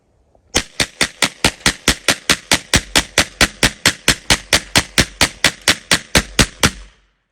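A Draco NAK9 9mm AK-pattern pistol empties a full magazine in a steady string of about twenty-five loud, close, evenly spaced shots, then stops abruptly.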